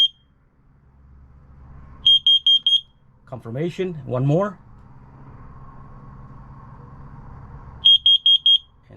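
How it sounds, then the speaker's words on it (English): A carbon monoxide alarm on a Jeanneau 795 NC boat sounds during a test, giving two bursts of four loud, piercing beeps several seconds apart, with someone speaking between them. "ready to accept anything or any smoke or any carbon monoxide, and the alarm should go off. And it's really loud"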